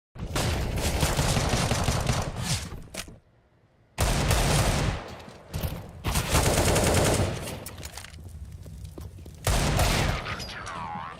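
Rapid rifle spray from a Galil in Counter-Strike during a Major tournament match, loud sustained bursts broken by a short gap, with overlapping gunfire and game noise and no talk.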